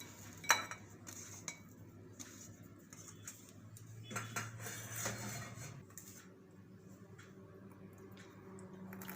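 Boiled potatoes are mixed into a masala with a metal utensil, soft clinks and scrapes against a pot coming in quiet, irregular bursts.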